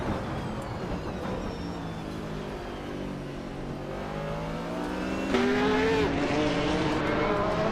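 Racing car engines from a video game, with a 1970 Ferrari 712 in the field, drone steadily with rising and falling pitch, and one engine note climbs sharply and loud near the end.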